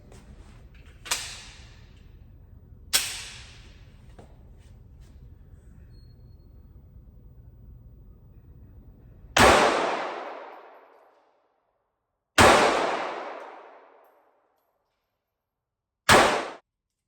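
A Smith & Wesson Bodyguard 2.0 pistol fires at a target. A couple of lighter cracks come first, then three loud, sharp shots spaced a few seconds apart, each trailing off into silence.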